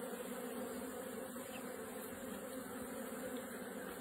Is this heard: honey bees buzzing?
yes